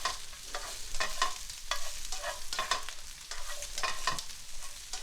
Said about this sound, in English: this broccoli sautés really fast